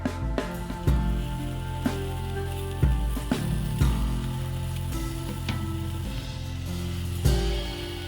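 Fish frying in a pan in the video game Tiny Life, a steady sizzle with periodic sharp clicks and knocks over a constant tonal background.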